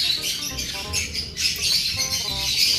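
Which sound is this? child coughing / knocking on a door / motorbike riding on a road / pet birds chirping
pet birds chirping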